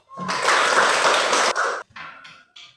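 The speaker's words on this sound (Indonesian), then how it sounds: "Kita beri aplaus untuk setiap kelompok" A class of students applauds every group after group presentations, a burst of clapping that rises quickly, holds for about a second and a half, then breaks into a few scattered claps.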